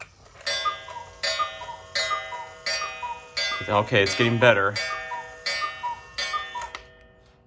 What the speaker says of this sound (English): that's what this clock is supposed to sound like